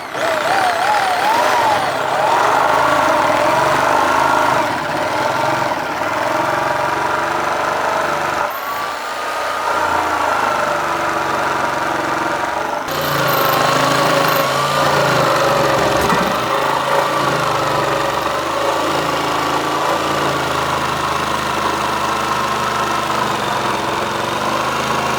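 A power tool fitted with a new blade cuts through cheap wood while building an air rifle trap, giving a loud, steady motor drone with shifting whine throughout.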